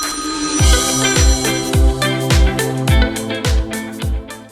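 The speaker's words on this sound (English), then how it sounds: "Kelly has just run back to the bins because she's done her Find My Phone and her phone is still at the bins" A mobile phone lost in a rubbish bin rings through a Find My Phone alert, its electronic ringtone repeating about every half second in a steady, loud pattern with nothing else over it.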